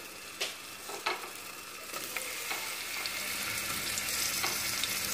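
Onion and garlic cloves fry in oil over medium heat for a chile de árbol salsa, a soft steady sizzle punctuated by a few sharp pops and stirring clicks.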